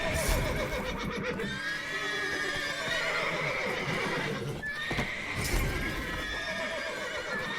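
Horses neighing and whinnying loudly in The Witcher 3, with hooves clip-clopping underneath, several loud whinnies standing out over the continuous noise.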